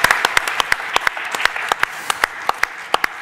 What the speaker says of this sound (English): Huge Thank you. round of applause